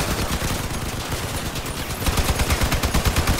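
Vehicle-mounted guns blast in rapid automatic bursts during a Crossout battle, loud, close and continuous, the rattling shots growing denser toward the end.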